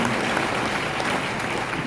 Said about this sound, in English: Put a big round of applause for these guys.